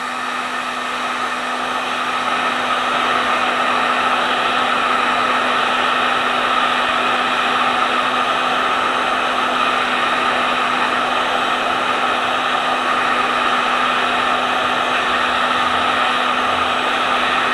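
Heat gun blowing hot air to warm material for shaping faux icicles, a steady close whooshing drone with a constant motor hum that never lets up.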